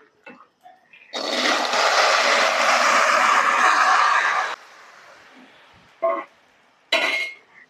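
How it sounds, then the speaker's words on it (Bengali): Peas tipped into a hot kadai of fried spices for Bengali ghugni set off a loud, steady hiss that lasts a few seconds and then cuts off, followed by short clattering bursts from a pan or utensil. "এবার কড়াইয়ে দিয়ে দিব মটর।"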